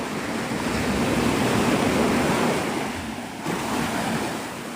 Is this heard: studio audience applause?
no